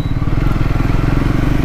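A 400cc motorcycle engine runs steadily up close, a continuous low throbbing rumble at idle or light throttle with no voices over it.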